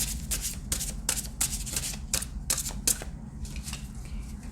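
Tarot deck shuffled close up in a steady series of crisp papery riffles and slides, repeating roughly every half second over a low background hum.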